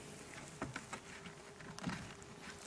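Honeybees buzz around hive frames full of honey at an apiary, a close, continuous drone with a few louder passes and soft bumps and taps.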